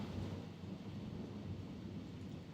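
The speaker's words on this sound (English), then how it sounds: "The thunder." Low rumbling thunder rolls continuously under steady rain, distant and fairly quiet, with no voices.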